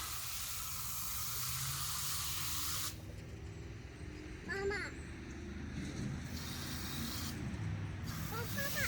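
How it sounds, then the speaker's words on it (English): A steady, loud hiss of water spraying onto a tomato plant in a garden for about three seconds, then it cuts off, leaving quieter rustling and brief bursts of activity nearby. "And then water this tomato."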